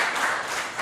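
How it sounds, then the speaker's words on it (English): A conference audience bursts into dense, continuous clapping after a technical talk, loud and even throughout. "let's give first clap."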